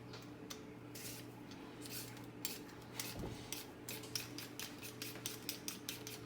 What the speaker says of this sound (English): Peeling our potatoes, getting it everywhere because I'm trying to be clean here.